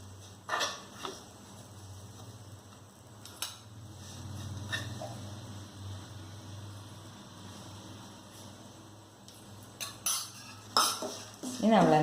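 A spoon scrapes and clinks against a pan while roasted grated coconut for coconut laddu is lifted out, with scattered metallic taps over a low hum and a brief burst of rattling at the end.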